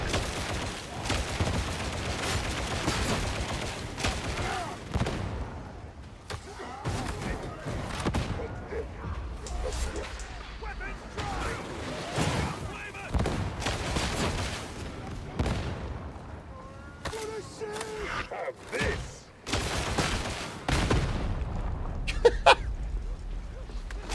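Repeated explosions and gunfire in a forest video game demo shown at Tokyo Game Show, bursting irregularly amid chaotic battle noise, with a person talking over parts of it.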